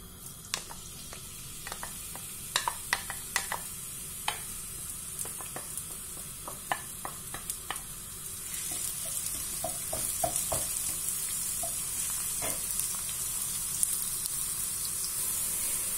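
Onions frying in a mix of olive and sunflower oil, a steady close sizzle that swells louder partway through, with scattered crackles and the scrape of stirring, no talk.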